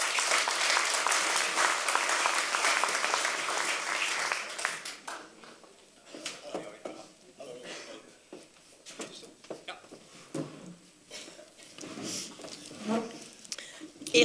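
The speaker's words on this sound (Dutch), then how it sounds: "Mag ik een warm applaus voor Erik Swiggers." Warm applause from a café audience welcoming a guest, dense and loud clapping at first that thins out into scattered separate claps, with brief voices mixed in near the end.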